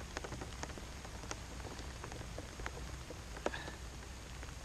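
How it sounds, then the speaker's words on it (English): Rain falls steadily onto a lake at a tench fishing spot, a constant soft hiss with scattered close drop taps, heard alone without talk. "Now it has started raining"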